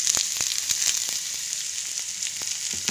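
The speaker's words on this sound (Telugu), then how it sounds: "కాస్తంత జీలకర్ర, ఒక ఎండుమిరపకాయ తుంచేసుకొని ఇందులోకి సన్నగా కట్ చేసి పెట్టుకున్న ఎర్రగడ్డ వేసి వేయించుకోవాలి" Finely chopped onion fries with cumin seeds and a broken dried red chilli in hot oil, giving a steady close sizzle with scattered pops and crackles throughout.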